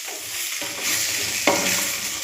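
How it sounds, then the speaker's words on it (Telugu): Fish pieces fry with chilli powder in a pan, giving a close continuous sizzle that swells as they are stirred, with one brief scrape. "ఈ పచ్చి వాసన పోయే వరకు కొంచెం ఫ్రై చేసుకోవాలి పీసెస్ని"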